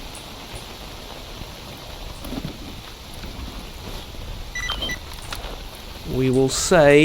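Steady rain hiss in the Stalker Anomaly game, a broad constant wash with someone talking over it and brief sharper game sounds near the end.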